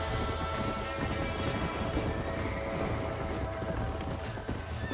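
Horse hooves clip-clop steadily in the Red Dead Redemption video game, a close, continuous galloping rhythm with occasional whinnies over a busy bed of background game music and noise.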